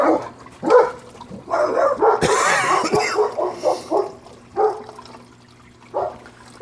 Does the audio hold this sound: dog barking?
yes